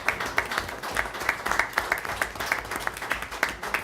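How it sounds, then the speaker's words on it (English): A group claps in a steady, rhythmic beat as a team of girls enters a press conference room in Los Angeles, the individual claps evenly spaced and moderately close, with no talk over them. "Give them a big inside. round of applause as they come in."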